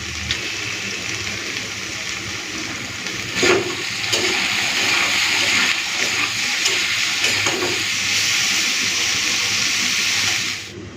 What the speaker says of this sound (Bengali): পেঁয়াজ দিয়ে এই উচ্ছে আর কাঁকড়টাকে ধুয়ে নেব